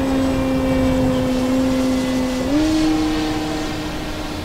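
An E-flite Extra 300 3D 1.3m RC airplane on its maiden flight drones steadily under throttle, a sustained electric motor whine that shifts upward in pitch partway through and fades slightly at the end.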